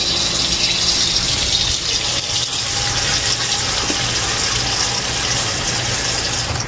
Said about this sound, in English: you're going to add your water to the basin